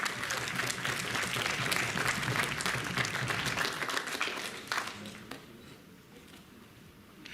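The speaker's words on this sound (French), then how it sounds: "Applaudissez-le." A crowd at a cosplay convention claps loudly for several seconds, then the applause thins out and fades to quiet room noise.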